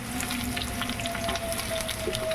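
Sliced onions fry lightly in a pan with oil, giving a steady, soft sizzle that crackles faintly throughout without any voices.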